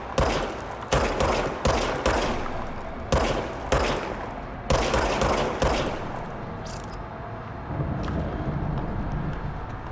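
Gunfire from a gun in the game Control: several sharp bursts of shots in quick clusters over a few seconds, then fading to a quieter ambient hum with a final faint shot.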